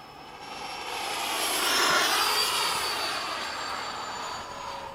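An HSD F-16 radio-controlled model jet makes a fast pass, its ducted-fan whine rising to a loud peak near the middle and then easing off as it moves away, with no talking.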